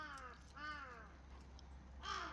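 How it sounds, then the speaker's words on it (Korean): A crow caws in the morning. Three harsh caws come at uneven intervals, fairly clear but not very close. "까마귀 좀 쫓아내리겠어. 가! 쉬! 아침부터 깍깍거리고 있어."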